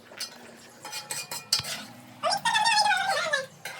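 Ingredients being mixed in a metal pot, a spoon scraping and clinking against the sides in irregular bursts, closer and louder in the second half, with no talk.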